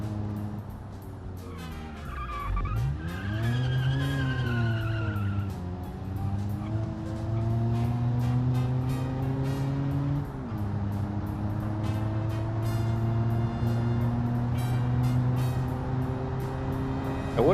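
A small car in a video game accelerates up to highway speed, its engine note climbing steadily through long gears with a drop at a gear change, loud and close with no talk over it.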